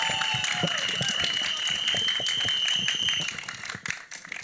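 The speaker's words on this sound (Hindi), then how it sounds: "एक बार जोरदार तालियां" Audience applause at a film trailer launch event, dense clapping from a crowd with voices mixed in, steady for about three seconds before thinning out.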